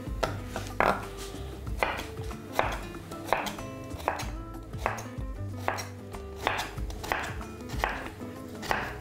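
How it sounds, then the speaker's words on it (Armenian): Fresh cucumber chopped on a board, a run of about a dozen crisp knife knocks at a steady, unhurried rhythm, close and without talk. "Եվ ոչ մանր կտրատենք։"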